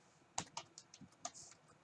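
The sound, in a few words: typing on a computer keyboard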